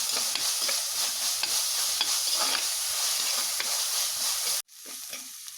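Crushed ginger, garlic, onion, shallots and green chili sizzle steadily in a pan, with frequent close scraping and stirring clinks throughout before the sound cuts off abruptly near the end.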